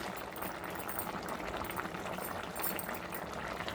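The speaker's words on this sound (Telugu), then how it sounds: "ఉడకనివ్వాలండి పులుసు మొత్తం మరిగే వరకు" A tamarind gravy with crab and brinjal simmers in a pot, giving off a steady, dense bubbling hiss. The sound stays even throughout and is fairly quiet, with no talk over it.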